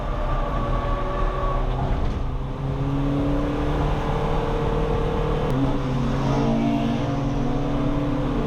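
A race car engine drones loudly and close on a track during a Renault Twingo track day. The engine holds a steady roar throughout, its pitch sliding up and down as the car accelerates and lifts, with no voices.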